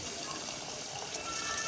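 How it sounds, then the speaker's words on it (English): Water pours steadily into a cooking pot for spaghetti jollof, a continuous gushing hiss from a tap or jug that lasts under two seconds with no break. "I'll add water"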